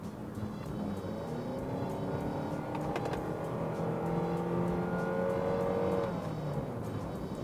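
Nissan X-Trail 2.0 2WD accelerating with its CVT transmission, a steady engine drone overlaid by a rising, thin whine that grows toward the end, heard from inside the car without talking.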